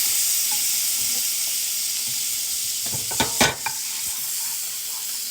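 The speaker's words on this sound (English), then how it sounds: "And just keep stirring it." Chicken with ginger and lemon juice sizzling steadily on a hibachi grill, with a constant frying hiss throughout and a brief cluster of scraping stirring strokes near the end; no one talks.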